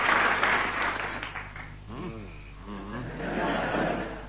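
A studio audience at a BBC Radio 4 comedy panel show applauds in bursts, loudest at the start and swelling again at the end, while a voice speaks in the quieter middle stretch.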